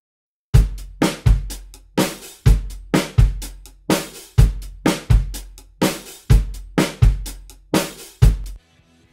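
An unprocessed drum kit captured by seven microphones, playing a steady groove of loud, punchy hits, roughly fifteen strikes over eight seconds, with bright cymbal and snare wash over deep kick thumps and no voices.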